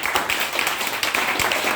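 Church congregation clapping in worship, a steady, fairly loud patter of many hands with a rhythmic pulse and a few sharper claps standing out, no voices on top.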